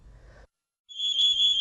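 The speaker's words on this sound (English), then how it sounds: "Smoke alarms are very loud and noisy" A household smoke alarm gives a shrill, steady high-pitched beep, fairly faint, starting after a brief low rumble and a moment of silence.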